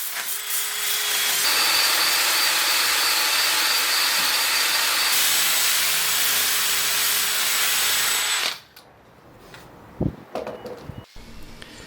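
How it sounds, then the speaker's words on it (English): A drill with a sandpaper-covered polishing attachment sands the inside of a carved walnut bowl, giving a loud, steady whirring grind for about eight seconds before it cuts off, followed by a few quiet knocks and handling sounds. "I had this polishing attachment for my drill, so I connected some sandpaper to it and used it to sand the inside."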